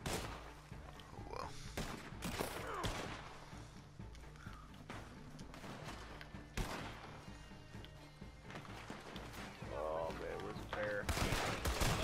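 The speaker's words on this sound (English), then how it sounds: "Oh, I'm getting shot at." Gunfire in Red Dead Redemption 2 during a bounty fight: repeated sharp shots and bursts crack throughout, some near and loud, some farther off, with occasional hoof thuds, a dense chaotic firefight.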